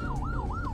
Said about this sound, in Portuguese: Essa agonia do congestionamento agora, uma ambulância.